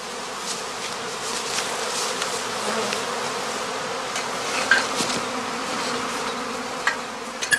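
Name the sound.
honey bee swarm buzzing at skep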